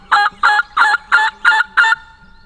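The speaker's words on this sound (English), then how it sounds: "We're going to try it with the box call because sometimes they'll answer this" Six even, loud raspy yelps from a turkey box call, played in quick steady succession in the field during a turkey hunt, with nothing else heard.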